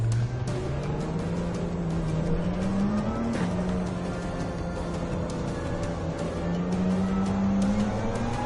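Racing cars in the Gran Turismo video game: one engine whines steadily and climbs in pitch through the gears, with a background of other cars, fairly loud and continuous throughout.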